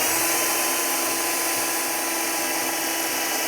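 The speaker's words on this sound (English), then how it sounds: "We're going to drill some holes." A power drill whirs steadily at close range, drilling holes to mount a tour pack on a Harley-Davidson Road Glide in a garage, a continuous loud motorized hum with no pauses throughout.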